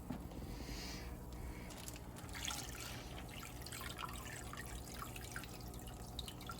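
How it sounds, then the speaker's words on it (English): Aquarium tank water trickles and drips into a bag holding newly bought fish, a faint continuous watery patter over a steady background. "Add about a third more water from our tank."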